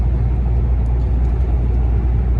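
Interior of a car driving on a road, steady loud low engine and road rumble with no breaks.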